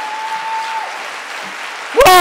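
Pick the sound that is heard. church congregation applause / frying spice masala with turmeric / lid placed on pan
church congregation applause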